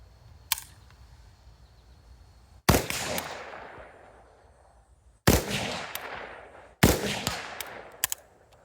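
Rifle shots ring out at targets 50 and 100 yards away, one faint early crack followed by three loud sharp reports with long decaying echoes, spaced a couple of seconds apart, no talking.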